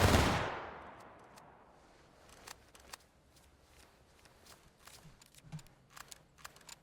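A massed musket volley in the Civil War video game War of Rights cracks loudly at once and rolls away, followed by scattered faint distant shots and clicks.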